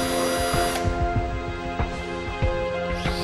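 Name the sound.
drilling 5 mm holes at crack ends in plastic bumper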